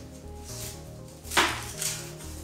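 A chef knife cuts meal ingredients on a board, a few soft thuds and one sharp chop standing out over quiet background music.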